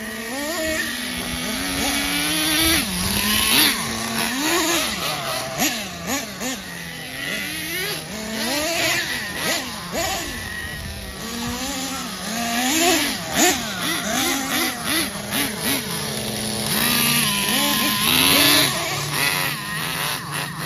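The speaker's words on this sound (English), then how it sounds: "Tommy, you like revving it?" An engine revs in a back yard, its pitch climbing and falling in repeated throttle blips, loud and close throughout, with faint voices in the background.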